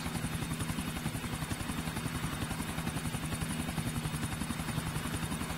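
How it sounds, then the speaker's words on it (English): A helicopter in the video game GTA IV flies close with a steady, rapid rotor chop and a loud engine whine, holding an even level from start to end with no speech. "There be the other chopper."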